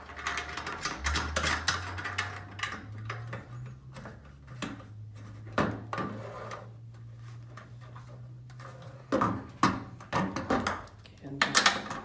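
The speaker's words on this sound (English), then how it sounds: "just lightly tighten this. You don't want to ratchet it down" A ratchet wrench tightening a nut on a sign post, rapid clicking bursts close up with pauses between strokes, alongside light metallic handling and a low hum underneath.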